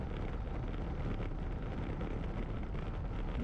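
Steady light wind buffets a microphone during a cycling time trial at Rugles, a constant low rumbling roar with no distinct events and no talk.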